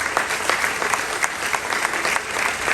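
An audience claps for a group of students at a university agricultural technology park launch. The applause is dense and steady and fills the whole short stretch.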